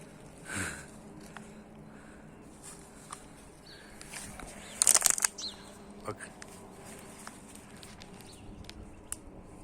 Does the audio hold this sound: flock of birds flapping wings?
yes